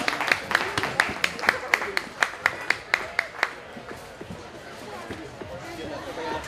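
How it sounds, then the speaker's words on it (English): An audience at a convention contest gives a round of applause for the participants, starting with distinct, evenly spaced claps that fade into a softer, diffuse crowd murmur and scattered clapping. "a huge round of applause for everyone that was involved"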